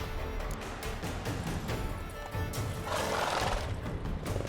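A horse in The Witcher 3: Wild Hunt whinnies and snorts close by, with hooves clattering under a dense background of game noise and no speech.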